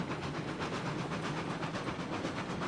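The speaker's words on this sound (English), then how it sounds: "I think they could add some more rail sounds to the game." Steady rolling rail noise of a train in the video game Railroads Online, a continuous loud rumble with faint rhythmic clatter and no talking.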